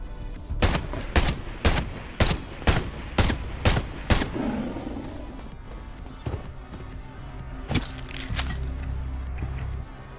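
Gunfire in the video game Undawn: a rapid series of about eight sharp, evenly spaced shots close up, followed by a pause, a couple of scattered shots and some lighter rustling movement.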